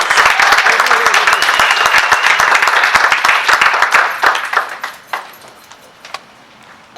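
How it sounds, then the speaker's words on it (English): A community panel audience applauding, loud dense clapping for several seconds that thins into scattered individual claps and then near quiet. "let us give a round of applause for this tonight"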